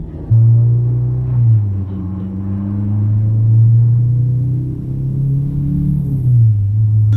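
Turbocharged K24 Honda Civic race car with a manual gearbox driving under load, a loud steady engine drone holding a pitch and then stepping lower twice as gears shift, close and alone.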